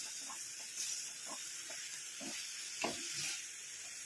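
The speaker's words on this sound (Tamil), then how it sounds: "இந்த மாதிரி நல்லா கிண்டி விட்டுட்டே இருக்கணும்" A natural homemade hair dye mixture being stirred in a pan over heat, with soft scraping strokes and a faint steady sizzle and hiss beneath them.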